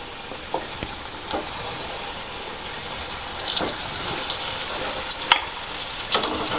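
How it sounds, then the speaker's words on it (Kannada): Modaks fry in hot oil with a continuous bubbling sizzle, close and moderately loud, punctuated by a few brief clinks and splashes as pieces are dropped in and moved. "ಎಣ್ಣೆ ಕಾದಿದೆ. ಸೊ ಇದರಲ್ಲಿ ನಾನು ನಮ್ಮ ಮೋದಕಗಳನ್ನು ಬಿಡ್ತೇನೆ."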